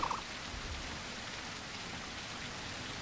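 Steady rain in The Isle Evrima game world, a soft, even hiss of falling drops with a faint low rumble beneath, quiet and unbroken.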